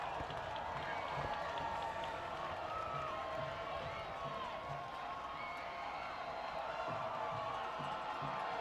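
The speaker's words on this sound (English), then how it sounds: "Rebel crowd comes to life." Home crowd at a high school football game, Brentwood versus Franklin, roaring and cheering in a sustained, distant swell with scattered clapping and whoops, with an announcer's voice running underneath.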